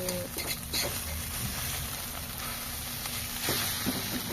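An egg frying in a pan sizzles steadily and fairly close, a continuous hiss with faint scraping or stirring touches, no talking.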